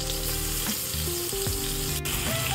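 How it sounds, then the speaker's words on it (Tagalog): Garlic sizzles in melted butter in a pan for hotdog fried rice, an even, close frying hiss with faint steady tones running in the background. "Tapos igigisa yung bawang."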